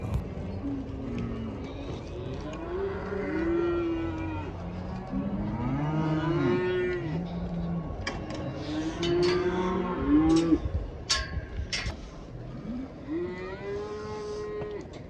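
Cattle moo repeatedly, several deep, drawn-out calls overlapping near and farther off, as the herd is loaded into the compartments of a livestock trailer for transport, with clanging and shuffling in the background.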